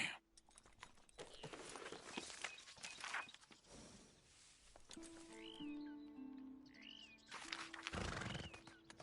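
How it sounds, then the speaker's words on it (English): Horse neighing in Red Dead Redemption 2, two distinct whinnies near the middle, with a brief muttered voice and soft game ambience around them. "Damn horse."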